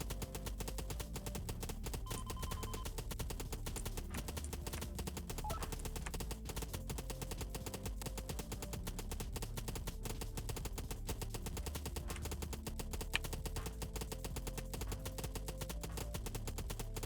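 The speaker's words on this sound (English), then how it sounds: "That's why I'm using the gun with infinite ammo" Gunfire from an infinite-ammo gun in the video game Gearbits, a relentless rapid stream of shots rattling on without pause, loud and evenly spaced throughout.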